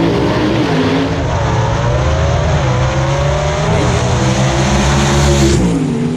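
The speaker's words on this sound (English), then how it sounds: "Hear those big blocks winding up here on the line." Big-block gasser drag race cars rev and rumble loudly at the starting line at Kil-Kare Dragway in Xenia, Ohio, their deep roar rising and dipping in pitch continuously.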